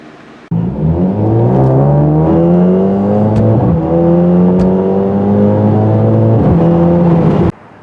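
A 2023 Mercedes-AMG SL 43 turbo convertible engine starts abruptly, then hums loud and close, its pitch climbing steadily through repeated gear-like rises and dips before cutting off; no voices.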